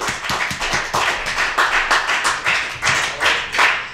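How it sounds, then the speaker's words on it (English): A comedy club audience claps for a comedian being brought to the stage, a close, fairly loud burst of many hands in uneven pulses that rise and fall over four seconds, with no talk. "Give a round of applause for Scott Norvey."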